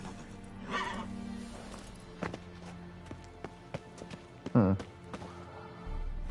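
Roach the horse in the Witcher 3: Wild Hunt video game gives a sharp whinny partway through, with an earlier softer neigh and scattered hoof taps against quiet game ambience.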